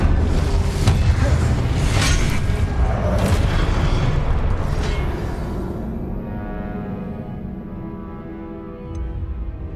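An Incendio fire spell cast in Hogwarts Legacy roars out as a loud, rumbling whoosh of flame that holds for several seconds, then fades to a quieter low tail.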